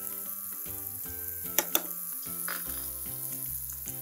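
Powdered masalas such as chilli, turmeric and coriander powder sizzling as they fry in a hot pan for a pumpkin masala, a steady close crackle with a couple of sharp utensil clinks, under lively background music.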